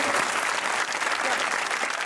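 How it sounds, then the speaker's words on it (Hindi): An audience at a cricket and tennis interview event gives a short burst of dense, continuous applause, a thick wash of many hands clapping at once. "गिलानी साहब के लिए भाई तालियां।"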